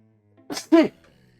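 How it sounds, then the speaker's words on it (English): A single sharp sneeze, a quick inhale then an explosive burst, close to the microphone in a quiet room. "Pardon me for that sneeze."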